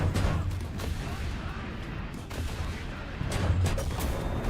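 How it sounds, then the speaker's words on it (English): Missile fire against a T80 tank in a combat video game: a dense, rumbling barrage of blasts and booms that stays loud across the whole stretch, with bursts swelling near the start and end. "Now I have to missile him."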